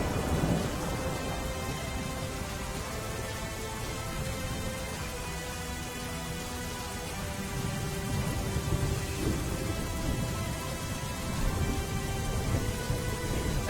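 Heavy monsoon rain pours steadily in Gujarat, a dense hissing downpour with low rolling thunder rumbling underneath throughout, no voices.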